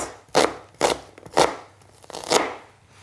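Four firm knife chops land on a cutting board about half a second apart, each a short crisp thud, as vegetables are trimmed for a green garden soup; nearby and clear with no talk.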